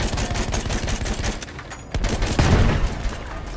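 Machine gun fire in Battlefield 1 tank combat, loud rapid bursts of automatic shots with a short pause, then heavier booming fire close by.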